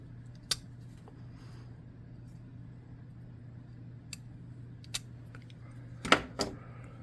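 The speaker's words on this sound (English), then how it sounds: "Cut the end open." Scissors snip open the folded end of a paper or craft piece while making tabletop terrain scatter, a few sharp isolated clicks and cuts close by over a steady low hum.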